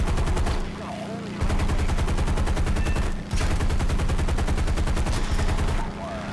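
Rapid machine gun fire from a P-47D-25 fighter in the War Thunder flight game, long sustained rattling bursts with brief pauses, loud over engine drone, with someone talking underneath.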